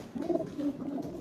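A black pigeon coos softly up close, a low, throaty, rolling call lasting about a second.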